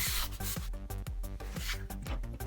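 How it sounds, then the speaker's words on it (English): A fine sanding sponge rubs over a 3D-printed prop in quick back-and-forth strokes, a close, soft scratchy rasping repeating in an even rhythm of roughly four strokes per second, with no voices. "I lightly went over the whole prop with a fine sanding sponge."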